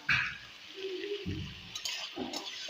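Potatoes with salt and turmeric fry in a pan, giving a soft sizzle broken by the scrape and clink of a stirring spoon against the metal.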